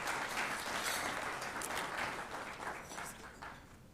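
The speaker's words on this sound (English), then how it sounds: "A round of applause, please, to Madam Sally." Audience applause at the launch of an investment agency's strategic plan, a dense steady patter of clapping from a crowd that gradually fades over a few seconds, with no talk over it.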